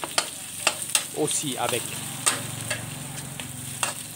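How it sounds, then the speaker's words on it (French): Egg being stir-fried with pork and garlic in a pan, a soft steady sizzle broken by sharp clicks and scrapes of a utensil against the pan, with a brief spoken phrase partway through. "on va broyer l'œuf dedans, comme vous voyez, avec le porc et l'ail"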